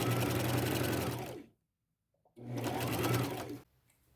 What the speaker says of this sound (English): just sew a straight stitch all the way up